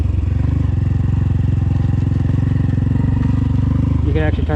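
Honda Grom motorcycle with a leaning sidecar ridden through a figure eight, its small engine droning loud and steady close by, with a person talking over it near the end.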